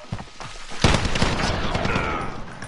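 Rapid gunfire in a Call of Duty match, a loud blast followed by sustained crackling bursts and booms, with a faint voice in the background.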